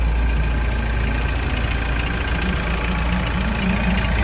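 The engine of a Mini R56 LCI car idles steadily during a diagnostic vehicle test after oil pump solenoid and oil pan gasket work, a constant low rumble with a faint knocking undertone and no talking.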